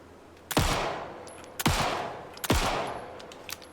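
Three loud, close gunshots from an Alan Wake 2 game scene crack out about a second apart, each followed by a decaying echo, with no talk.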